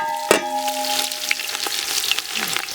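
Cumin seeds and onions frying in oil for fish curry, a metallic ring from a pan strike at the start, then a bright crackling sizzle with quick stirring scrapes, near and without voices.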